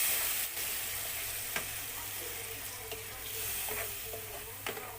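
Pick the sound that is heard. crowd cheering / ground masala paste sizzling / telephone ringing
ground masala paste sizzling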